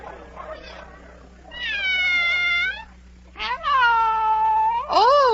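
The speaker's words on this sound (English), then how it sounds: "Oh, it's the Cheshire Cat." A cat meows in a 1948 radio adaptation of Alice in Wonderland, three long drawn-out meows with rising and falling pitch, loud and close, following a short murmur, with a steady low hum underneath.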